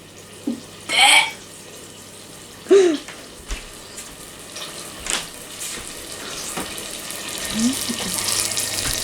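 Tap water runs and splashes in a kitchen sink while dishes are washed, with a few brief bursts and clinks over a steady low flow.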